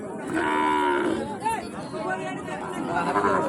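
Cattle moo loudly and up close at a livestock market where Sahiwal bull calves are for sale, one long low call followed by shorter ones, with crowd chatter and people talking around the animals.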